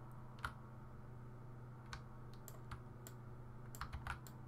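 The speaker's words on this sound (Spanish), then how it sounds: "Estoy Shift, manteniendo sin soltar el clic, pero luego tiene que soltar." Computer keyboard keys and mouse clicks during 3D character modeling, a handful of sharp separate clicks spread irregularly over a steady low electrical hum, with no talking.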